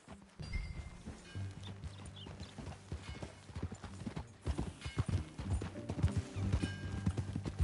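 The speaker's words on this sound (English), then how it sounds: "That a new horse?" Steady clip-clop of horse hooves at a walking pace in Red Dead Redemption 2, close and fairly loud, with a brief whinny-like tone and rhythmic game-style background.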